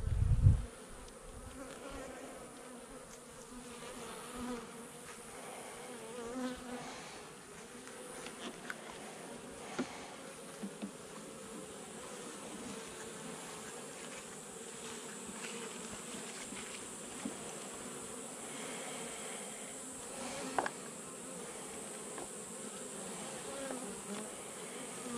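Honey bees buzz steadily inside an opened beehive infested with maggots and roaches, a continuous close droning hum with a few faint clicks and knocks from handling, and no talk.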